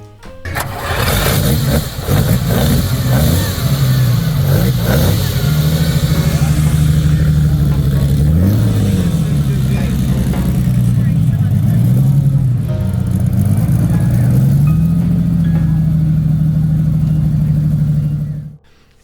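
A Ferrari V12 competition car engine fires up and revs repeatedly, its loud, throaty note rising and falling in several blips before settling into a steady high idle, heard close and dominating throughout.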